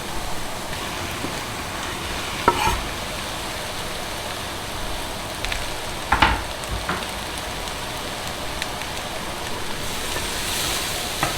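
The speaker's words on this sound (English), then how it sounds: "Now I'm gonna throw the onions in." Onions thrown into a pot of carrots and celery for Irish beef stew, giving a steady broadband sizzle with a few louder scraping stirs and clatters, constant and fairly loud throughout with no talking.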